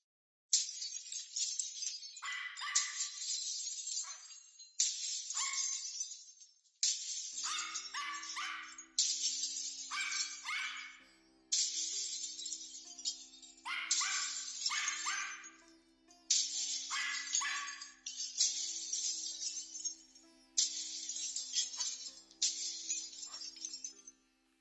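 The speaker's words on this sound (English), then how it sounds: "I heard a dog there in the background." A dog barks in the background during a phone call, repeated yips and barks over roughly twenty seconds with a faint steady tone underneath and no talking.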